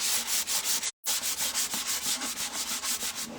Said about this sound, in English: I've got some 220 sandpaper here, and it just needs a little tiny bit